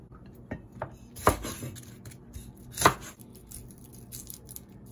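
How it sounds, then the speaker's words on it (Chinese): A knife striking a cutting board while chopping garlic cloves with ginger, a few sharp, separated chops with quieter taps between, close and clear with no talk. "蒜头拿个3粒。 然后把它切碎，跟姜放在一起就好。"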